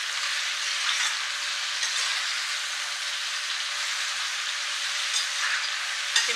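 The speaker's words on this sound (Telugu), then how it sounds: "ఈ సొరకాయ ముక్కలు వేసి ఇలా కలుపుకోవాలండి." Pieces of bottle gourd stirred in hot oil in a pan, giving a steady, even hiss of frying throughout, with faint scrapes near the end and no voices.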